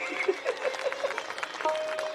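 Clapping from an audience at a Ramkatha religious storytelling event, fairly sparse and uneven, mixed with tonal voices or singing over it.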